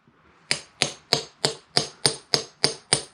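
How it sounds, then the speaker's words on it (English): A hammer taps a bearing into a 54mm centrifugal clutch, nine evenly spaced sharp metallic knocks in a steady rhythm, close and alone. "Then I will tap by using the hammer properly and nicely."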